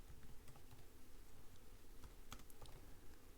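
Faint, rapid computer keyboard typing clicks along steadily against a hissy background, with a few louder key taps near the end.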